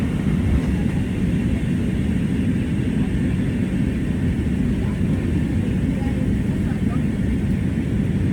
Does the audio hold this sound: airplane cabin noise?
yes